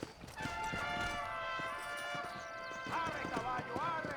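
Horse hooves clip-clop in a steady, close rhythm in the video game Red Dead Redemption, with game music and tonal sounds running beneath and a brief horse snort or vocal near the end.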